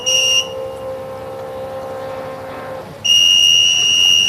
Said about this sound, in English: I hear the whistles, and the red flag is flying here from the flag stand.